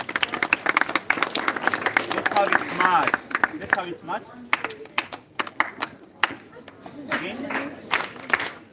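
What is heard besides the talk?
students applauding a classmate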